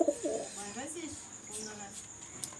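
Teddy golden pigeons coo in low, rolling calls close by, with a steady background hum and a voice speaking partway through.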